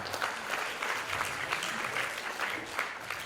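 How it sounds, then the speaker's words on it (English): Audience applause at a museum talk on Chamorro dance in Guam, a steady wash of clapping from a moderate crowd holding fairly even for a few seconds with no voices. "Give them a round of applause, ladies and gentlemen."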